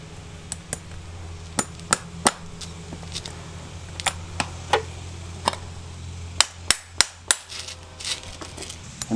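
Hammer driving nails into a horseshoe on a horse's hoof outdoors, sharp metallic taps in an uneven rhythm, with a quick run of four strikes near the end; close and clear with no talk.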